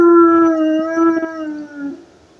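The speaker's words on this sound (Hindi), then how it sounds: "यह कुत्ता क्यों रो रहा है?" A dog howls close and loud in one long, wavering tonal cry that slowly falls in pitch and fades out, with no other sounds.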